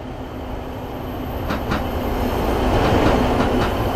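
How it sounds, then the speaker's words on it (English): A video game train in Roblox rolls in to platform 5, its rumble and wheel noise building steadily, with a couple of sharp clanks along the way. "train now approaching platform 5"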